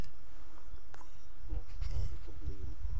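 Bees buzzing around a beehive outdoors in a rural setting, a close, wavering drone over low rumble while a person talks nearby.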